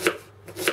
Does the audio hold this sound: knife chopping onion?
yes